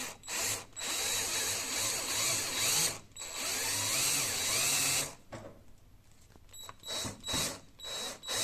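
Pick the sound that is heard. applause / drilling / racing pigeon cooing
drilling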